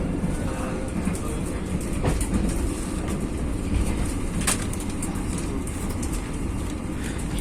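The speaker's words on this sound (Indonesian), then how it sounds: "kereta api Blambangan Express melintas langsung stasiun Kalisat" The Blambangan Express passenger train rolling straight through Kalisat station without stopping, a steady loud rumble of wheels on rail with faint clicks, heard close and continuous with no talk.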